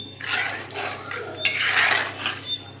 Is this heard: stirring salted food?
yes